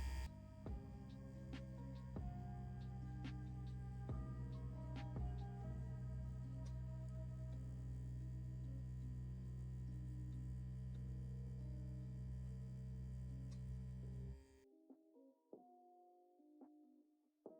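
An electric tattoo machine runs while pulling lines on fake skin, giving a low, steady electric hum with faint ticking that continues evenly, then cuts off sharply near the end, leaving near silence.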